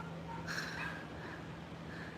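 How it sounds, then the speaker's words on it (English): Dogs on a beach at sunrise give one brief, faint yip, sounding far off over a steady low hum and background noise. "Now they're barking at another dog who's barking from far away."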